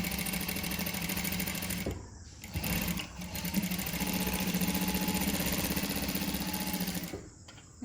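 A sewing machine stitches a saree blouse seam in steady rapid runs, pausing briefly twice before resuming its close, even whirring chatter.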